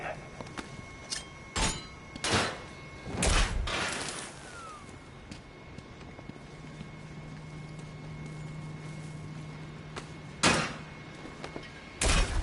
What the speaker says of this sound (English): The door is open.